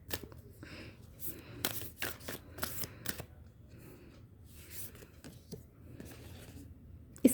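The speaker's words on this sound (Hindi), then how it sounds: "अब देखते हैं हम ओरेकल डेक से कि आपके लिए क्या निकल" Oracle cards are shuffled by hand in soft, irregular riffles and flicks for a tarot-style reading, close and fairly quiet with scattered crisp snaps.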